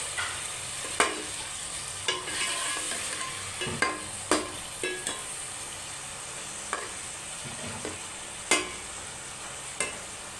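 Tomatoes fry in hot oil for a chicken curry, with a continuous sizzle. A spoon repeatedly clinks and scrapes against the pan as the mixture is stirred, in irregular sharp knocks.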